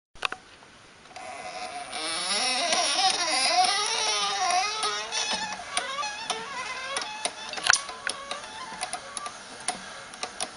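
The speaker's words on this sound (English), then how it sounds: "This is a hand winder that I've built. It makes winding coils so much easier." A homemade hand winder winds wire onto a transformer coil, producing a close, whining, wavering squeal that rises and falls with the cranking, followed by irregular clicks and ticks as the winding slows.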